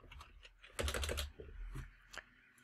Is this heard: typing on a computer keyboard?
yes